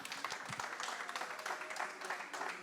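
An audience claps loudly for a trophy presentation at the Loir-et-Cher local investment awards in Blois, a steady dense patter of many hands heard throughout, with faint voices mixed in.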